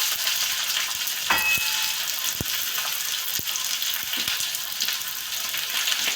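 Onion frying in hot oil with mustard seeds, a steady close sizzle and crackle with a few sharp pops and a light stirring clatter, no voices.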